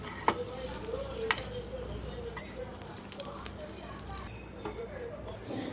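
Rice appe batter frying in a covered appe pan, a steady soft sizzle and faint crackle running throughout with a few sharp clicks, while a voice talks quietly in the background.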